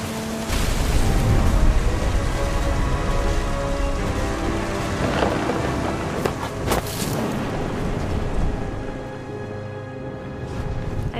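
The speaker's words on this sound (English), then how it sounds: "Thunder sounded much too close and full of angry power" Heavy rain pours steadily during a thunderstorm in What Remains of Edith Finch, a dense close wash with a couple of sharp crackling strikes midway and low rumbling underneath.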